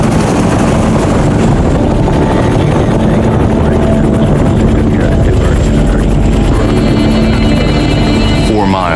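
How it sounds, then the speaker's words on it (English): U.S. military helicopters lift off and fly toward a landing zone in the Vietnam War, a loud, close, continuous rotor thrum and engine roar that never lets up. "the first U.S. choppers lift off and begin the 13-minute flight to the landing zone"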